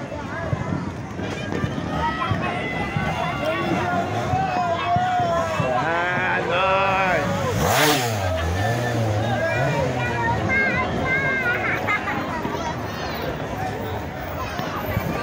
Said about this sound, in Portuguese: As motos, hein?